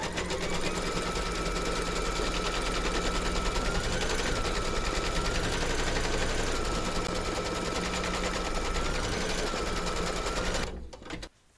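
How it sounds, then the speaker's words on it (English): An embroidery machine stitches a round on a hooped bunny design, a loud, dense, continuous needle rattle close by that runs unbroken for nearly the whole stretch before stopping abruptly. "Pop your hoop into your machine and stitch round number three to secure it."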